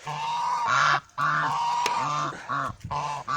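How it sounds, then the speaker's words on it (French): Geese honking loudly at close range in a garden yard, a run of repeated harsh nasal calls with short pauses between bursts, no talk over them. "je vais partir et les oies vont faire la chasse"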